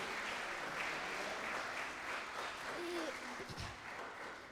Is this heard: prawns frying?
no